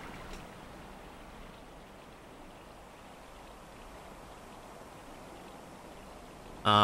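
Water lapping during a quiet boat ride in the video game Limbo: a soft, steady wash of water, faint and continuous, ending in a sudden short louder burst.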